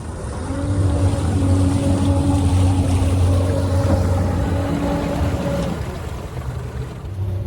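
A tow boat's motor drones steadily while underway on open water, a loud low rumble with a sustained tonal hum and rushing water and wind throughout, no voices.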